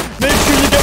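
A sudden loud burst of rapid gunfire erupts in the Roblox game Day of Infamy, a dense fusillade of overlapping shots close up with a shouted voice mixed in.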